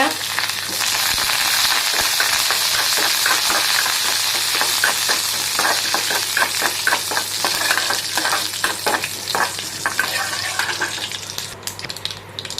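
Urad dal and curry leaves frying in hot oil for a brinjal stir-fry, a loud continuous bright sizzle and crackle close up, with stirring scrapes running through it, no speech.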